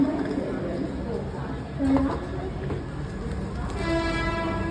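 Steady rumble of a moving train with short horn-like tones and rattling, while people chatter over the din.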